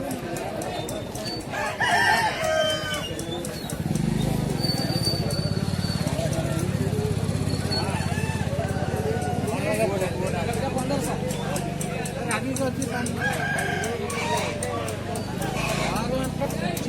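Roosters crow repeatedly at a busy Aseel chicken market in Odisha, overlapping calls rising above a dense crowd murmur and people talking nearby.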